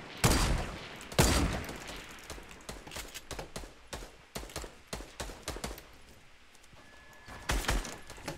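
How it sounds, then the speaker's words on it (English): Rapid bursts of gunfire in the video game Fortnite, sharp loud cracks in clusters, some near and some farther off, with a few quieter stretches between volleys. "Oh, I'm getting shot from behind."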